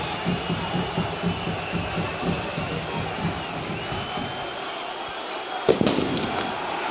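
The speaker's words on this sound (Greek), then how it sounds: "Πέφτουν κι άλλες κροτίδες στη συνέχεια." Firecrackers going off in a football stadium during a derby: a dense crowd roar fills the stands, with a sharp, loud bang bursting out near the end.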